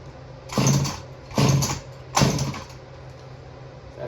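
Small gas engine on a homemade powered bottle opener, sputtering in three short, loud bursts about a second apart, each fading back to a low hum between.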